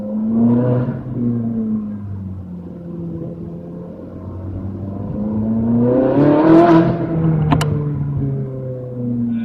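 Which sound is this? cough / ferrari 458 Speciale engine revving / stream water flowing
ferrari 458 Speciale engine revving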